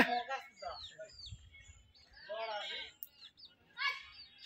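Pigeons at a rural loft in Bagha, Rajshahi make chirping and fluttering calls in short bursts, while people talk nearby and a rooster-like call sounds in the background.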